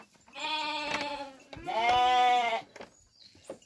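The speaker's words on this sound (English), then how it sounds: "This is an Alpine goat" An Alpine goat on a farm in Panama gives two drawn-out, wavering bleats, close and loud, with a brief pause between them and a faint rustle afterward.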